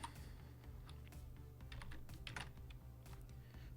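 Rapid keystrokes clatter on a computer keyboard while Python code is entered, an irregular run of close, crisp clicks over a steady low hum, with no talking.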